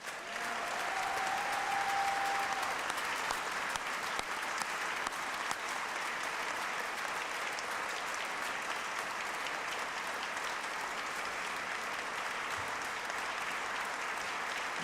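Steady applause from a large audience at a Rhode Island State of the State address, honoring volunteers and state employees, a dense continuous clapping that holds at an even level throughout, with a brief whistle near the start.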